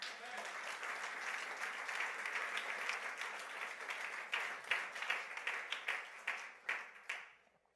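A church congregation applauds, dense steady clapping from many hands that gradually thins into separate claps and fades out, with faint voices mixed in.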